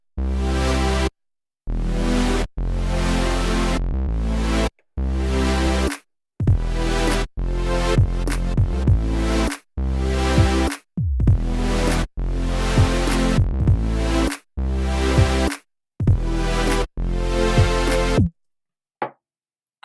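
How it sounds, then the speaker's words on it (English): Three layered synths playing future bass chords, thick sustained chord stabs in choppy rhythmic bursts with abrupt gaps and pitch-swooping accents, loud and upfront, ending in silence. "So all three synths together sound like this."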